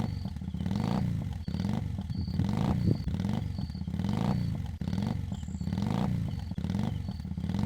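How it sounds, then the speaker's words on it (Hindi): Cartoon motorcycle sound effect of a bike carrying two riders along a road, a steady loud engine drone that pulses in repeated revving surges throughout, with no talking. "हम दोनों अपनी बाइक पर सवार होकर बहन के घर की ओर चल पड़े।"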